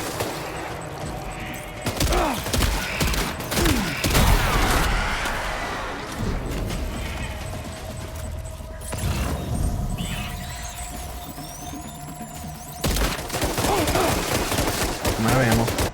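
Gunfire in the video game Death Stranding 2 comes as bursts of sharp, rapid shots between quieter stretches, loud and close, with no one talking.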